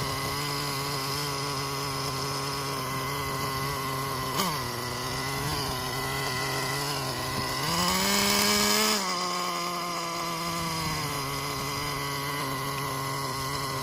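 The Traxxas Jato 3.3 nitro RC car engine, running on 30% nitro fuel, drones nearby at steady idle with a high, buzzing tone that briefly rises and falls as it revs.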